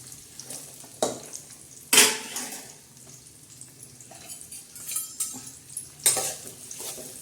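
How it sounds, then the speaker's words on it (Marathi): Onion and tomato sauté in a pan with a low sizzle, punctuated by several loud scraping strokes and clanks of a utensil against the pan, close by. "हे बघा आपण कांदा टाकत आहे टमाटे आणि कांदा"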